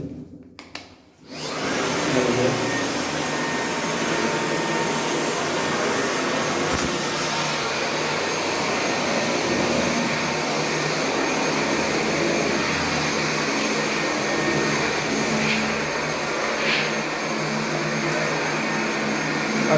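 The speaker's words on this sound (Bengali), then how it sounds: "পরিষ্কার করতে হলে আপনাকে এই মেশিন দিয়েই করতে হবে" A floor cleaning machine cleans a large space. It runs with a loud, steady, vacuum-like roar and whine that starts after a brief quiet moment and holds evenly to the end, with no talking.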